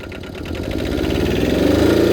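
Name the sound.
diesel quad engine running in low range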